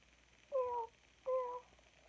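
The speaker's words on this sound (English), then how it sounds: "What does the kitten sound like?" A kitten meows twice, two short, thin, evenly spaced cries in an otherwise quiet setting.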